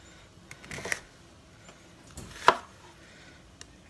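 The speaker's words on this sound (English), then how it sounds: "I'm going to chop up this onion that I have." Onion being chopped with a large knife on a cutting board, a few sparse, quiet taps with two more distinct strikes standing out, close by and without talk.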